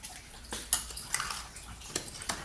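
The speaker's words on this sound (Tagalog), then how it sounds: "Kailangan natin haluin" A utensil stirring sugar into a mixture in a pot, giving soft scraping and a handful of light metallic clinks at irregular intervals, quiet and close with no talking.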